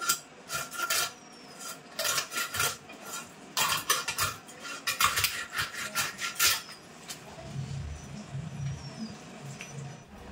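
A knife cuts the belly pieces off a wide fish, giving repeated rasping, scraping strokes against the board in bursts. Sounds are close and moderately loud, then fade to quieter shuffling at the end.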